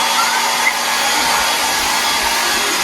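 A hair dryer blows steadily on a hair bun, a loud constant whirring rush of air close by, unchanging across the clip with no voices.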